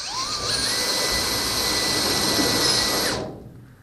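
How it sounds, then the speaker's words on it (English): A 6mm drill bores through a car body panel in a steady, loud whining run of about three seconds with a rising pitch, then cuts off and fades. "I'll just get a normal 6mm drill to finish that off through the inside."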